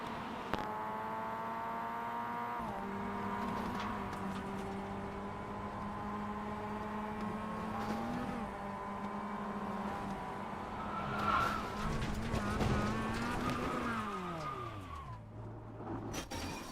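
Onboard a Mazda MX-5 Cup race car in iRacing, a steady buzzing engine note rising and falling through gear changes, with tire squeal and skidding toward the end, loud and close with no talk.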